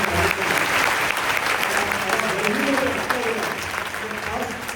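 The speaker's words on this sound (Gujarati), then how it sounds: "આખા વહીવટી તંત્ર માટે જોરદાર તાળી પાડો" An audience at a children's guidance and confidence-building camp claps loudly for the administrative staff, a thick, sustained wash of many hands with a voice audible over it.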